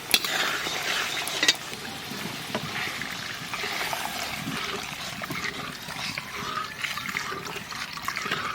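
Water splashes into spiced masala fried down in oil in a pan, a loud bubbling hiss and burst of steam, followed by continuous sizzling with a few clinks of a spoon stirring.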